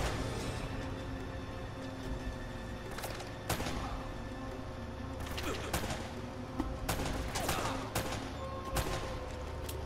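Rapid machine gun bursts and scattered gunshots from the Uncharted: Drake's Fortune video game, with sharp cracks repeating over a steady, dense layer of game noise.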